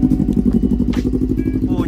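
Loud motorcycle engine rumbling close by, a heavy throbbing exhaust likened to two Raider motorcycles running at once, steady through a quick ride with voices talking over it.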